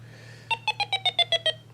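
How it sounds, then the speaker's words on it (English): Electronic Stop Thief board game (Parker Brothers, 1979) plays its thief-walking-down-the-street sound: eight short, evenly spaced electronic beeps, each a few steady tones, over a low constant hum, with no voices. "That is the sound of the thief walking down the street."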